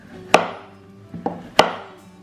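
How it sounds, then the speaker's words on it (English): A knife chops through the top and bottom ends of a courgette on a board, three crisp thuds at uneven spacing, close and distinct with quiet pauses between. "Just take the top off and the bottom off the courgette"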